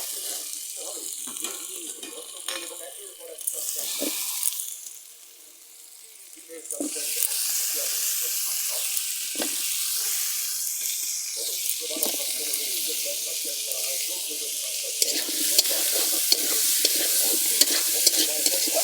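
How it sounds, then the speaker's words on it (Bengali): Ginger, garlic and onion spice paste fries with potatoes in a pot on a clay stove, a steady close sizzle with stirring scrapes and clinks that briefly quiets, then continues bright and even. "মশলা ভাজা হয়ে গিয়েছে আদা রসুন পেঁয়াজ ভালো করে ভাজা হয়ে গিয়েছে আমি এবারে আলু দিয়ে দেবো"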